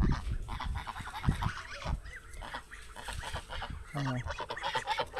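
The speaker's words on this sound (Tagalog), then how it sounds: "Ito yung dalawang gansa." Two farmyard geese, a female and a male, honking repeatedly at close range in a rural yard by a fishpond, loud nasal calls in irregular bursts, with a person talking over them.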